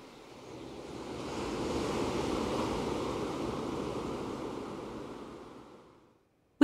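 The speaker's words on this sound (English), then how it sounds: "we can hear the forest sound fading out and the ocean sound coming in" Ocean surf sound effect in a Reality Composer Pro terrain scene swells in as a broad, steady wash of waves, then fades to silence and ends with a sharp click.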